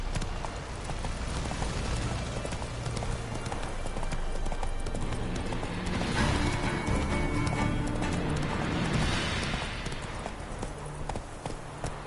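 Steady clip-clop of Roach the horse's hooves trotting in The Witcher 3: Wild Hunt, a continuous rhythmic beat of close hoofsteps lasting throughout, with a brief spoken line at one point.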